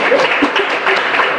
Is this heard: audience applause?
yes